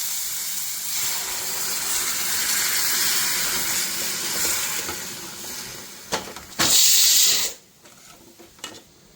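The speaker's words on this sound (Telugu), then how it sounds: "ఇప్పుడు మనం ఒకసారి కలిపేసుకొని కొంచెం వాటర్ వేసుకుందాం" Water is poured into a bubbling pan of drumstick curry, a rush of hissing and splashing that swells, then cuts off into a few clinks and faint stirring.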